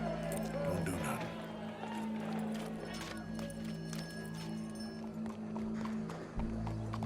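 Horse hooves clip-clop in Red Dead Redemption 2 as the game's horses move, a busy rhythmic patter under crowd murmur and people talking in a busy outdoor scene.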